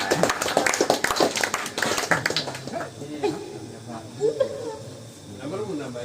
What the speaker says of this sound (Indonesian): Tepuk tangan Amanda